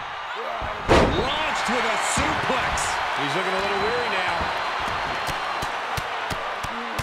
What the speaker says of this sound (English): Continuing to work on the arm with a vicious knee drop.